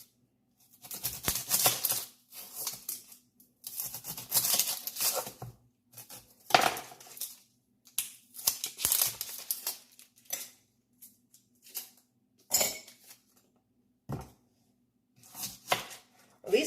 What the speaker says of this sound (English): Okay, chopping an onion.